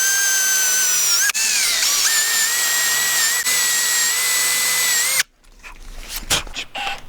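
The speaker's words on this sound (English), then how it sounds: "we're starting by making a 3/4 inch hole with a 3/4 inch Forstner bit" A power drill with a 3/4-inch Forstner bit whines steadily for about five seconds as it bores into wood, then stops, followed by scattered clunks and rustling.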